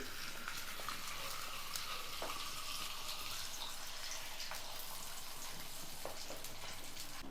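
A ghee-filled sweet bobbatlu flatbread fries on a hot griddle, giving a steady soft sizzle with occasional small pops and scraping ticks, quiet and continuous with no voices.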